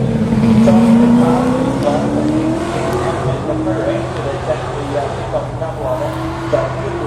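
Touring Car Masters race cars at the Adelaide Clipsal 500 street circuit roar loudly past, engine notes sweeping and falling, with a voice talking over the steady engine noise.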